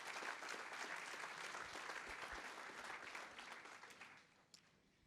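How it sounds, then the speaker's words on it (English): A conference audience at a summit applauds startups with dense clapping that holds steady, then tapers off and fades toward the end, quite faint overall. "Another huge round of applause for all of the startups here today."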